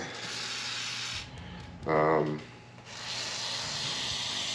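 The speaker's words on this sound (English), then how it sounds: "I'm choosing to use WD-40" WD-40 spray can aimed at automatic transmission valve body parts during reassembly, one short close hiss of spray lasting under a second amid a quiet workshop background.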